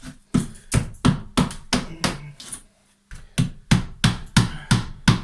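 Sharp chisel taps on wall tiles and plasterboard fixed to timber studs, a steady run of close, evenly spaced knocks with a short pause partway through, no talking.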